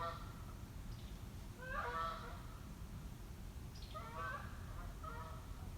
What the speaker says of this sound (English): That sounds like a goose, doesn't it? It is a goose.